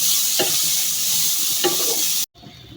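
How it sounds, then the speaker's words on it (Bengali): Carrots fry in hot ghee with cardamom, bay leaves and cinnamon for carrot halwa. A loud, steady sizzle carries two soft stirring scrapes, then cuts off abruptly near the end. "এখন ভেজে নেব।"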